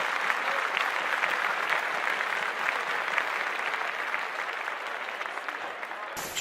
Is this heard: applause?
yes